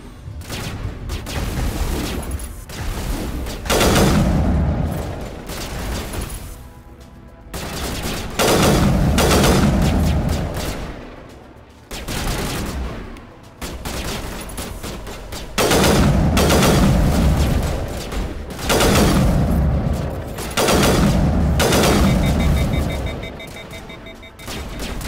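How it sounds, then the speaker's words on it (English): Gunfire in the video game Mass Effect 1 crackles in repeated loud bursts of rapid fire that come and go in waves, with brief lulls between volleys. "Where are you guys shooting at?"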